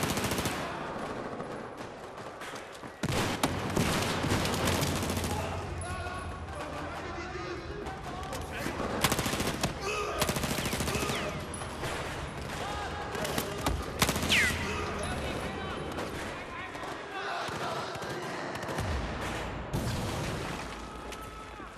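Gunfire in the video game Battlefield 4, dense bursts of automatic weapon fire and shots crackling continuously over a busy battle soundscape, with players talking over it.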